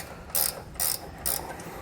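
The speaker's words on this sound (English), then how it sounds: "So we're going to tighten a few turns here, switch to the other side, tightening it" Ratcheting wrench tightening base plate bolts on a 2021 Jeep Cherokee, three short bursts of crisp clicking spaced about half a second apart, close and fairly loud against a quiet background.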